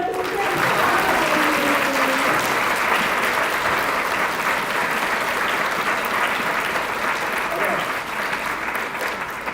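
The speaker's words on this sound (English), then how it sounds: "All right, give a round of applause for" Sustained applause from an audience at a book event, a dense, loud wash of many clapping hands that holds steady throughout with some faint voices mixed in.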